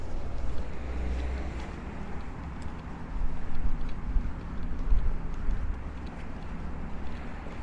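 Cold, gusty wind rushes steadily over a microphone on a Brooklyn avenue, a broad low rumble with stronger buffeting surges near the middle, and no voices heard.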